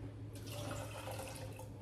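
A cup of water is poured for green tomato pickle brine, a steady continuous splashing and trickling stream heard alone at low level.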